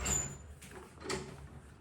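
A door slides open and shut indoors in two quick rumbling scrapes, each ending in a soft knock, with no talking.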